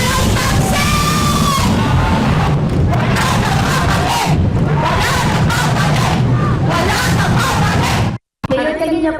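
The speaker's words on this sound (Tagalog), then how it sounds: "Yan po ay sigaw naman ng ating mga sumusuporta sa atin." A crowd of political supporters chants and shouts in rhythmic bursts at a rally in Heroes Park, loud and close, with one brief cut to silence near the end.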